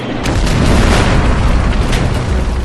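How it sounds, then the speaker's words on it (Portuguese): A missile detonates near a fighter jet in aerial combat, giving a loud, broad blast that rumbles on steadily through the whole stretch with no voices. "Eu vi o míssil passar pelo caça e explodir."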